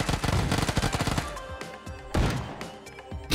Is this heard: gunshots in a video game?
yes